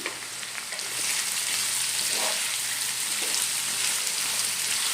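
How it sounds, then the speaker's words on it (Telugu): Thinly sliced onions hitting a pan of lightly fried prawns with salt for a prawn tomato curry: a quiet opening gives way to a steady, loud hissing sizzle that continues evenly, rain-like, with no voices. "ఇలా రొయ్యలు కొద్దిగా వేగిన తర్వాత 1 cup ఆనియన్స్ యాడ్ చేసుకోవాలి ఫ్రెండ్స్."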